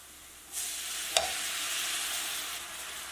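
Moong dal halwa in a pan bursts into a loud broad hiss as sugar syrup goes in, with one sharp clink of a spoon, then a steady sizzle of stirring, close and unaccompanied by talk.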